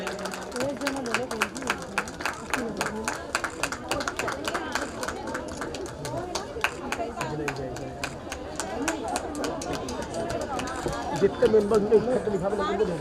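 Loud applause from an audience at a foundation-stone ceremony for an incoming treasurer, rapid sharp claps in a sustained burst with crowd chatter underneath, growing stronger near the end.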